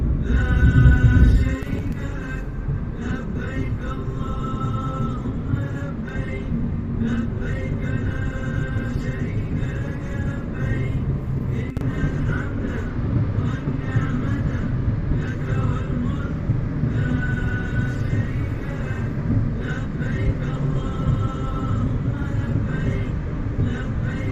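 A car drives along a road toward Riyadh in a dust storm, giving a steady, loud engine and road rumble from inside the vehicle, with a voice talking over it.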